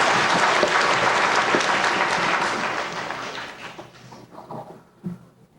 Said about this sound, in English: Big round of applause for Shelby.